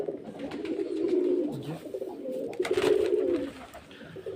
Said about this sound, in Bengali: সব খাঁচা পুরো ভর্তি পায়রা ছিল